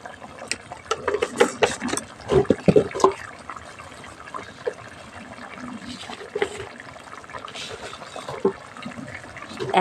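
Cooking water left from boiling potatoes and eggplant is poured into a pan of curry, giving soft splashing and trickling with scattered clinks, close and fairly quiet, no talk.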